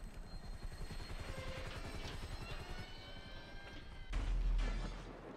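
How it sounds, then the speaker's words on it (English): A helicopter's rotor in the video game GTA 5 Online chops rhythmically at a steady pace, then a loud low boom bursts in near the end. "if the helicopter gets too close"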